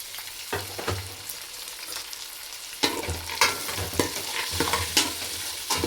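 Curry vegetables, peas, carrot and beans, sautéing in oil over a high flame, with a steady sizzle broken by repeated sharp spatula scrapes and stirs, close up with no talk.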